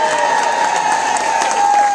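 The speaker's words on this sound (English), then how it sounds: "a round of applause" A crowd applauds for Kendrick Jr. at an event, a dense, even wash of clapping heard close and loud for a couple of seconds.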